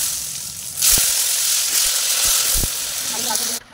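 Potato pieces fry in hot oil with a pinch of turmeric in a home kitchen, giving a steady close sizzle with a few clattering knocks of a utensil and someone speaking over it.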